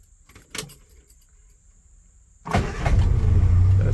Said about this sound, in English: This is how you start the car. And it starts with one click every time.